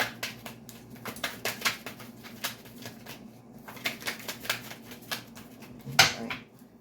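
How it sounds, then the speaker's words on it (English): Tarot cards being shuffled by hand, a quick series of crisp papery riffles and taps in uneven bursts, close and fairly quiet, with no talking. "Two more shuffles and I'll pull from the top."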